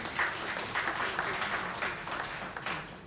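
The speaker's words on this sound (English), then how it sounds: "Can we give her another round of applause, please?" An audience at a fund launch event applauds, a burst of many hands clapping in a dense, uneven patter that continues throughout.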